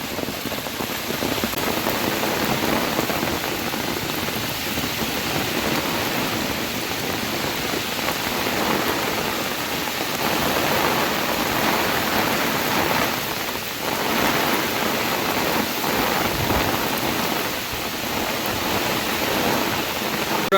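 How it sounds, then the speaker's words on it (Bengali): Torrential Cyclone Remal rain keeps beating down on and around a fishing boat, a loud, unbroken wash of pattering drops that runs on at an even level with no one speaking. "যে বৃষ্টি পড়ছে বন্ধুরা বলার মতো না, ঘূর্ণিঝড় রুমেলের কারণে প্রচণ্ড বৃষ্টিপাত হচ্ছে"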